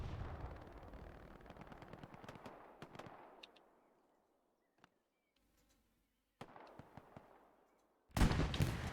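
Gunfire in a competitive shooter match as a garrison is taken under fire: scattered sharp shots and rattling bursts that fade into near silence, a few isolated cracks, then renewed firing and a loud blast at the end.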